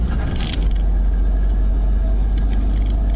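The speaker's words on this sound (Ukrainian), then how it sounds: "Я відкрию може люк, до речі, буде голосніше чути двигун." Steady, loud car engine rumble with low droning hum from inside a moving vehicle with its roof hatch open, continuous and unbroken.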